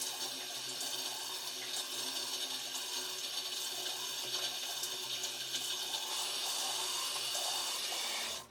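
Tap water runs steadily from a bathroom faucet into a sink while face scrub is rinsed off, a constant close hiss of flowing water with no talking.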